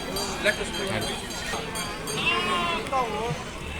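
Goats bleat in wavering cries amid a busy outdoor goat and sheep market crowd in Nallapadu, with people talking throughout and background chatter.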